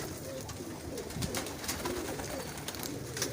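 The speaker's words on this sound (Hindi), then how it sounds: "देखें माशाल्लाह कबूतरों का ढेर लगा हुआ है" Pigeons coo softly and repeatedly amid a busy, steady background of flock noise and faint rustling.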